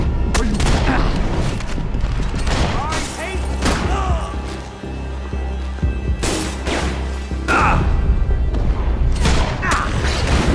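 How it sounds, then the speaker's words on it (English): Shootout in Max Payne 3: loud gunshots burst again and again amid clattering, mechanical impacts and crashes, spread over about ten seconds with short pauses between volleys. "Shoot out!"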